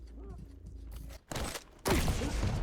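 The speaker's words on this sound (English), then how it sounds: "gets connected by the rail shot of ARSENY" Railgun shots in a duel match of an arena shooter video game, two sharp broadband bursts, the second louder and longer, over a steady game background.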